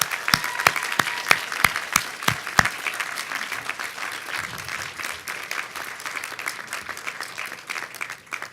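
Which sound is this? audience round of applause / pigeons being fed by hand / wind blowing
audience round of applause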